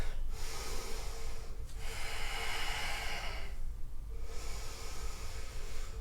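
Deep breathing during a vinyasa yoga flow: long, hissing inhales and exhales, close and clear, separated by short pauses.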